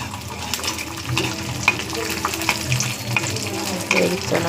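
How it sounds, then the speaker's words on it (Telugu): Peanuts fry in oil with dried red chillies, a close, continuous sizzle broken by crackles and the scrape of stirring. "ఆయిల్ పల్లీలు వేసి ఎండుమిరపకాయలు కూడా వేయాలి."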